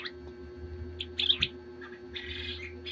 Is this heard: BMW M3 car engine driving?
no